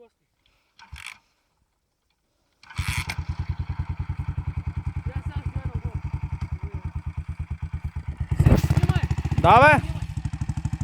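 Aprilia Tuareg 350cc motorcycle engine starting up after a few clicks, then idling with a steady rapid thump close by, revving up twice near the end while someone shouts briefly.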